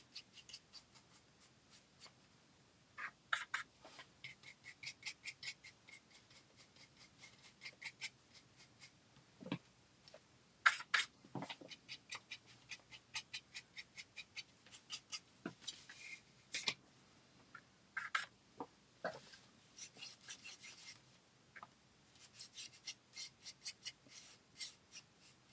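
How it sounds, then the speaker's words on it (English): A brush scuffs dry paint along the edge of a wooden craft piece, a long series of short, quick scratchy strokes in uneven clusters, close and quiet over a hushed background. "I'm just kind of scuffing that along that edge of the"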